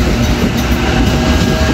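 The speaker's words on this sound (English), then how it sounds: "and that's the train which is going towards Otahuhu and Manukau" A train passes close by in an Auckland suburb, heading toward Otahuhu and Manukau. It makes a loud, continuous rumble with rail clatter and no voices.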